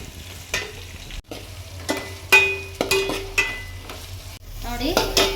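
Onions frying in a pan for tomato ghee rice, with steady sizzling and occasional clinks and stirring scrapes of a utensil against the pan, close and alone without talk.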